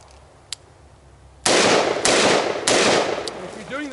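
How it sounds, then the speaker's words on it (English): Three loud, close pistol shots from a Glock 17 handgun at a shooting range ring out at steady intervals after a quiet start, each with a sharp crack and a long echoing tail. "Oh, I love shooting my 17."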